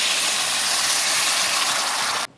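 Boiling water pours steadily into a wok of dry-fried duck necks seasoned with soy sauce, a loud continuous rushing gush that stops abruptly near the end.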